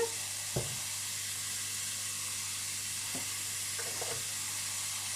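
Bacon lardons fry steadily in a pan, a continuous soft sizzle with a few brief stirring scrapes, close and moderately quiet, no voices.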